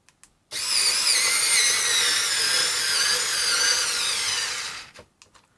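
A Ryobi battery-powered screwdriver drives a screw, a single sustained high-pitched motor whine lasting about four and a half seconds with a slightly wavering pitch, starting and stopping abruptly, loud and close.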